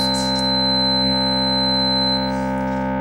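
Quiz buzzer pressed during a school quiz competition semi-final, a sustained electronic tone with strong steady harmonics lasting about three seconds, loud and alone.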